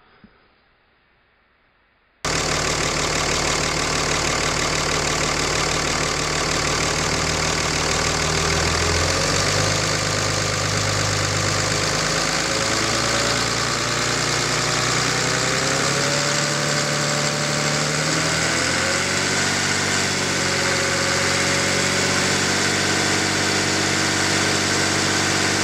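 A diesel engine runs at a steady idle with a dense, rumbling, knocking drone. It cuts in loudly after about two seconds of near silence and holds its level to the end, with no talking.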